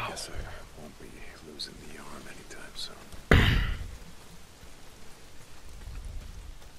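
Steady heavy rain hisses through a scene in the video game Days Gone, a broad continuous wash with a sudden louder burst partway through, while voices talk softly over it.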